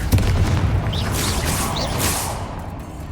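Spell explosions and magical combat in the video game Hogwarts Legacy, a continuous roar of booming blasts and whooshing effects, loud and dense throughout with no clear pauses.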